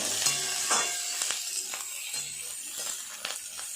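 Carrot, potato, onion and chilli crackle and sizzle in hot oil as a spatula stirs them, with several distinct scraping strokes against the pan over a steady frying hiss, up close.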